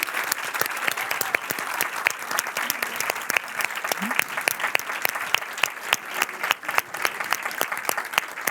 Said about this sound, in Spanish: Vamos a darle un aplauso muy grande a Ana